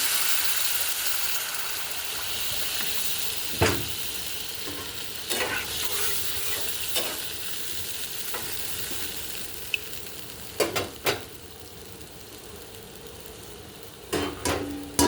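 Taro pieces frying in a mustard and poppy seed paste in a village kitchen, with a steady low sizzle under stirring and several sharp scraping clanks of a spoon against the pan.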